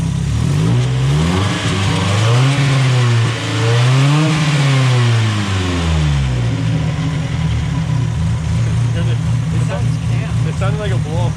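A cammed Mazda Miata engine revs up and down in repeated rising and falling sweeps, then drops to a lumpy idle with small blips, heard loud and close while people talk over it.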